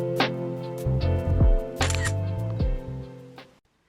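A camera shutter clicks several times in close succession, sharp and near, each snap followed by a short mechanical whir, then silence.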